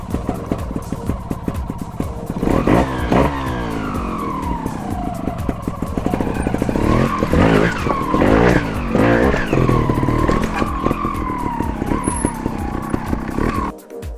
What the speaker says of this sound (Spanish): Un golpe de gas para subir la primera, nos llevamos la moto a la segunda y luego a la tercera.